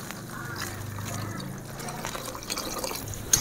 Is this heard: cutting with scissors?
no